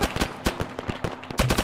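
Rapid bursts of gunfire crack out in a military shooter game, a dense run of sharp shots and short automatic strings fired in quick succession with no talk over them.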